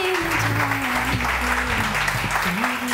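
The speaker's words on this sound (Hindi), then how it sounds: "ये तालियां इसी तरह बजती रहे" A studio audience on a Pakistani morning TV show applauds to welcome a guest, a steady, full clapping wash under a low sustained musical tone and a voice speaking over it.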